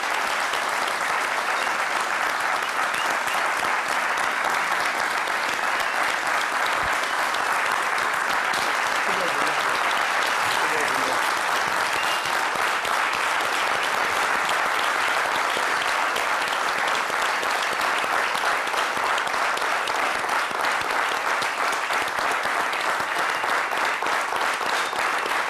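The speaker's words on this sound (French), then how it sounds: "la minute de silence se transforme en minute d'applaudissement pour" A minute of applause in tribute, sustained dense clapping from a gathered crowd that stays loud and unbroken for the whole stretch.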